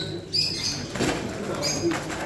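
Caged birds at a bird market give soft calls and brief wing flutters, faint and close, with no talk over them.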